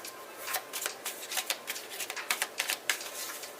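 Tarot cards being shuffled in a quiet room: a run of crisp, papery riffling bursts and soft slaps at an irregular rhythm, close and moderately loud, with no talking.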